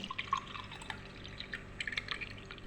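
Chilled spiced buttermilk (sambharam) poured from a mixer jar into a serving glass, heard close as light trickling and scattered dripping splashes that end with a sharp knock.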